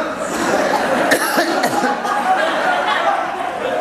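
A room of students coughing and clearing their throats together, overlapping rough bursts and hacks of varying loudness, with some chuckling and murmured chatter mixed in.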